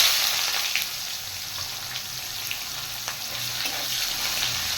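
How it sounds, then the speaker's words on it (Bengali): Chopped onions sizzle in hot oil already seasoned with whole cumin, dried red chillies and bay leaves. The frying is a steady, close hiss broken by a few light stirring clicks. "এবার দিয়ে দেব কুচিয়ে রাখা পেঁয়াজ।"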